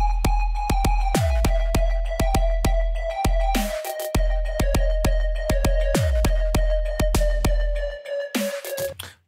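Drop section of an unfinished, unmastered electronic dance track, with punchy repeated kicks under a sustained lead tone and sharp bright hits, loud and continuous, ending in a short stuttering tail.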